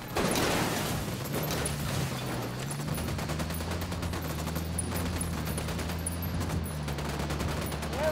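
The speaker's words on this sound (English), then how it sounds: "I'm opening fire on these shitheads." Continuous video game gunfire in Ghost Recon Wildlands, a dense fusillade of rapid shots running steadily through the whole stretch over a low droning hum, with no pauses between bursts.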